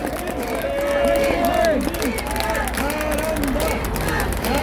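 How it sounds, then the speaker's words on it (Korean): Applause from a crowd at an outdoor rally: dense clapping spreads throughout, mixed with a babble of voices and shouting that rises and falls over the steady noise. "자, 큰 박수 부탁드립니다."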